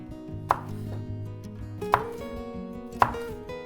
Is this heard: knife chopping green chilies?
yes